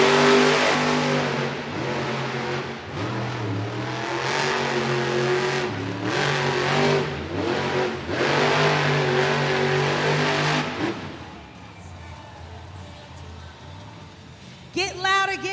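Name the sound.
Sparkle Smash monster truck engine revving in arena run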